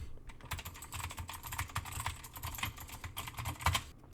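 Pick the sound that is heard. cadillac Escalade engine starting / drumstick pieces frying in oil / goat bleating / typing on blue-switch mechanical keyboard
typing on blue-switch mechanical keyboard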